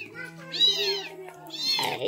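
A cat meows twice in a rural Philippine setting, near and fairly loud, each call rising and falling, with faint background voices between the meows.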